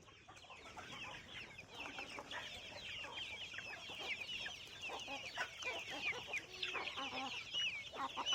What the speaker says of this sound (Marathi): मी कोंबड्या सोडल्या येतात आता